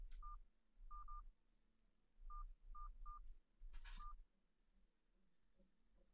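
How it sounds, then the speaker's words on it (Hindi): Phone keypad tones entering a six-digit one-time password during HDFC credit card activation: a series of short, faint electronic beeps, some in quick pairs, spaced irregularly over quiet background noise. "कृपया आपके मोबाइल नंबर पर प्राप्त हुए छह अंकों वाला वन टाइम पासवर्ड एंटर करें"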